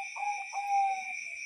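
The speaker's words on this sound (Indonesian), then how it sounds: "suara tekukur teman-teman" Spotted dove (tekukur) calling in short, soft coo-like phrases over a steady high-pitched insect or electronic whine, moderately faint and without speech.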